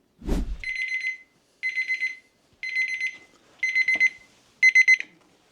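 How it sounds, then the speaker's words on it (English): A kitchen timer alarm sounds after a cooking countdown, five evenly spaced bursts of rapid high electronic beeping with short gaps between them, loud and close, starting just after a brief knock. "Okay, 20 minutes is up."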